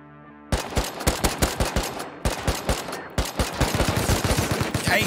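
Automatic gunfire in the survival video game Rust crackles in rapid, loud volleys, with several bursts of closely spaced shots and brief pauses between them.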